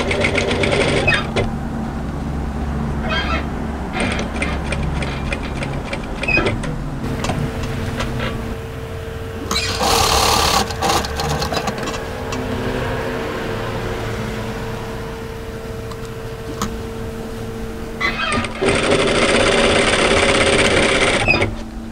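A sewing machine stitches the hem of a raglan hoodie in several bursts, a close whirring buzz that stops and restarts with short pauses between runs and a longer steady stretch in the middle.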